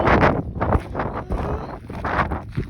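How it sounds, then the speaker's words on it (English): Steady gusting wind buffets the microphone with low rumbling bursts in Tonopah, Nevada, loud and close, with no clear speech. "It's so windy."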